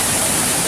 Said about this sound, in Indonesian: Seperti inilah penampakan dari air terjun